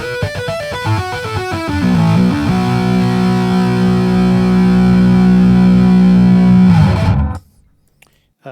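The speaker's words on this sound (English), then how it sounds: "distortion." Chapman Stick pickup with heavy distortion: a fast ascending run of saturated notes settles into a thick, sustained distorted chord that holds loudly for about five seconds, then stops abruptly into near silence.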